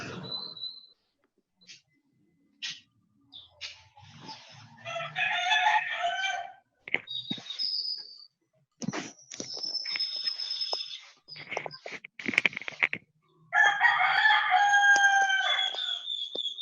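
Roosters crow repeatedly in bursts with quiet gaps between them, several birds calling at moderate distance in a rural setting, with no talk.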